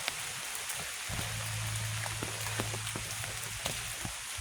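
Steady rain patters on a surface with scattered distinct drops, a constant wet hiss throughout and a low hum underneath from about one second on.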